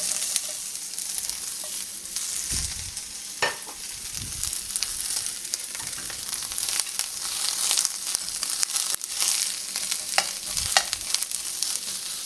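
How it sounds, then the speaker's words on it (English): Onions sizzle steadily in olive oil in a pan over medium heat, a continuous close frying hiss broken by occasional stirring scrapes and soft crackles, with no talking. "Now we're going to caramelize our onions. So just add a little bit of olive oil."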